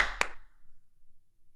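A single sharp hand clap for a sync slate, close and loud, ringing out briefly before near silence.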